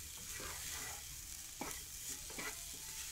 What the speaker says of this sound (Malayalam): ബീഫ് ചേർത്ത് നന്നായി ഒന്ന് മിക്സ്